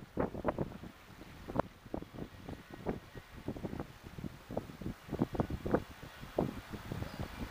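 A fishing boat's motor runs with a rough, pulsing chug and irregular bursts, buffeted by wind noise against the microphone; no voices.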